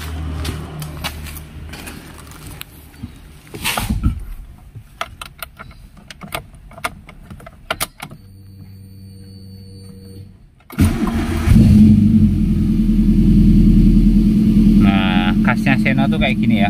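A Suzuki Baleno sedan engine idles in an engine bay after a clanking start, then revs up loudly and holds a steady, raised roar near the end, with talk around it early on.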